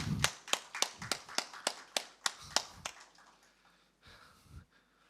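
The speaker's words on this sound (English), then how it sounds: "I would like to welcome them with a big round of applause" A small audience at a gaming-industry talk welcomes the guests with a short run of about a dozen sharp, evenly spaced claps, then faint noises after a pause.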